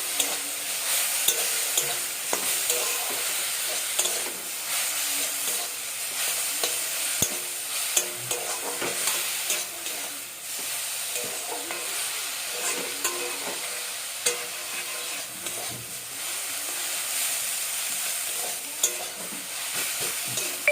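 Bathua greens (betho shak) frying in a pan, a continuous close sizzle with frequent scraping and stirring knocks from a spatula, no voices.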